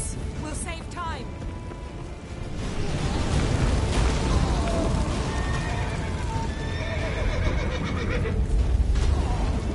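In The Witcher 3, a horse neighs loudly near the start, then its hooves clop steadily under a thick wash of battle noise and music.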